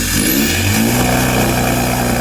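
A Seat car accelerates hard with its turbo surging, a loud, close, continuous engine roar with a wavering, pulsing rise in pitch.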